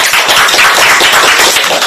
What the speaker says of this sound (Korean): 우선 오신 우리 회장님께 저희가 박수 한번 드리겠습니다